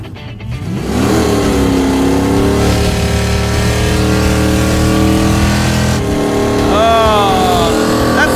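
A Plymouth Road Runner C-body muscle car engine revs loud and sustained as its clutch fails, the roar rising and falling in pitch for several seconds, close and dominant.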